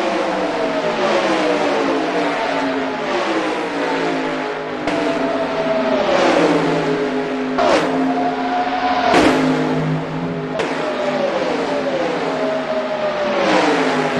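1990s NASCAR stock cars without restrictor plates roar around the Daytona oval in a racing video game, loud engines rising and falling in pitch as several cars sweep past in quick succession.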